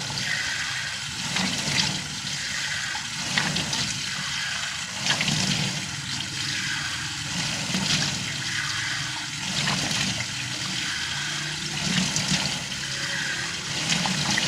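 Running water rinsing soap off a face, a steady splashing wash with rhythmic surges, close and moderately loud throughout, with no talk.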